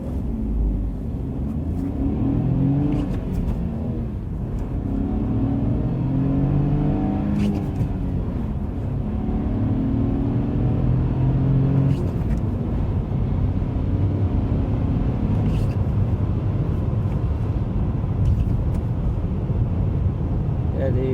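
A 2024 Dacia Duster 4x4 with a manual gearbox accelerates through its gears, a steady low engine drone rising and falling in pitch with wind roar under it, heard from inside the cabin.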